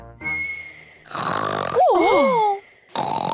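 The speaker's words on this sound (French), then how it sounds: "je ronfle comme ça en général" A cartoon pig, Papa Pig from Peppa Pig, snores loudly in a drawn-out rasping snort that ends in a wobbling, whistling exhale, with a brief pause and then another loud snore starting.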